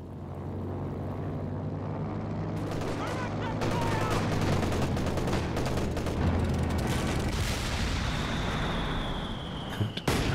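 Continuous machine gun bursts and thudding mortar impacts from Company of Heroes 2 form a dense, loud battle din, with a sharp explosion near the end.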